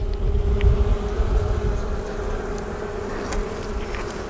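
Honey bees swarm around an opened, overwintered Layens hive during an inspection, making a dense, continuous buzz that is loud and close. Low rumble sits underneath, and single bees zip past now and then.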